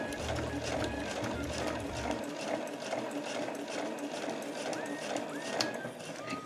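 A sewing machine stitches a body bag, beginning with a backstitch, producing a steady mechanical whirring hum with faint squeaks over a continuous bed of room noise.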